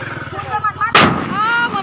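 An atom bomb firecracker bursts on Diwali night, one loud sharp bang about halfway through that cuts over crackling fireworks and whistling in the background.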